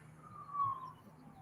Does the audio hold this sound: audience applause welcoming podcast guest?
no